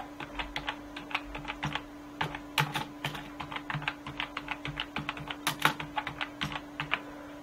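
Someone types a file name on a computer keyboard, a steady run of close, crisp key clicks with brief pauses over a faint steady hum.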